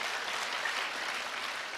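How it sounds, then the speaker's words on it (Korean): A seated audience at a company presentation gives a short burst of steady, dense clapping to welcome a new member. "환영의 박수 부탁드리겠습니다."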